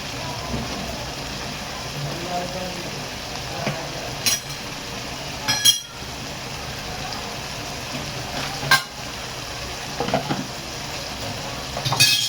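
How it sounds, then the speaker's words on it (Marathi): Goat liver in a dry masala sizzles steadily in the pan as it is stirred, a close crackling fry broken by sharp clinks and scrapes of the spoon against the metal pan, with no voices. "जरा कलेजी व्यवस्थित शिजून घ्या."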